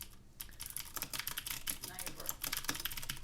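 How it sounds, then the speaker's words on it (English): Keys clatter on a Pok3r mechanical keyboard fitted with custom keycaps, a rapid, dense stream of sharp, close clicks that runs almost without pause through the whole stretch. "So this is the Pok3r keyboard."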